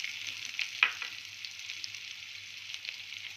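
Onions frying in a pan, a steady, fairly quiet hiss and sizzle with a few soft scraping stirs, heard alone without talk.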